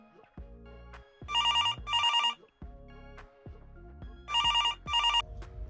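A telephone rings for an incoming call, two pairs of bright trilling electronic bursts separated by a pause, with musical tones and background sounds around them and no talking.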